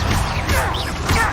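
A Confringo spell explodes in the Hogwarts Legacy video game: two loud, close crashing blasts about half a second apart over dense, rumbling game noise.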